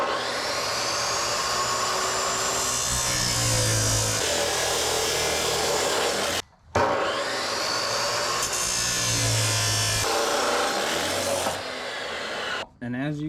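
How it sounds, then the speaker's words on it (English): A chop saw with a cutoff wheel slicing through metal brackets during tractor barn framing, a loud continuous grinding whine close up, broken by a short stop partway through. "use the grinder with a little cutoff wheel to trim this off"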